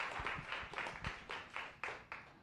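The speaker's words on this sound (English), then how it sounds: "let's give a round of applause" Applause from an audience at a science cafe talk, a handful of sharp claps spaced out over a couple of seconds, thin and fairly faint like a small crowd.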